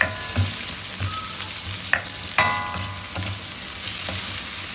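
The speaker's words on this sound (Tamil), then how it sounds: "வெங்காயமும் எப்படினா பூண்டும் எடுத்துக்கிட்டேன் நல்லா வதக்கிக்குவோம்" Onion and garlic sautéing in a pan give a steady close sizzle and frying hiss, with occasional stirring scrapes and light pops.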